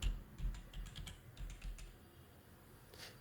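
Someone types a search on a computer keyboard in Windows 11, a short run of soft, fairly faint keystrokes over a low background hum, then a pause.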